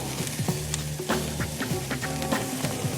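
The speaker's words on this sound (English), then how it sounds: "Turn the onions over here." Onions sizzle in a pan for a salsa, a close and busy frying hiss broken by quick scrapes and clatter as they are turned over, with no talking.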